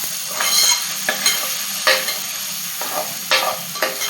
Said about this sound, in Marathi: आपण हिंग हे छान असं फ्राय करून घ्यायचं